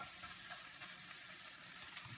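Egg whites frying in a pan give a faint, steady sizzle with a few soft pops and crackles near the end.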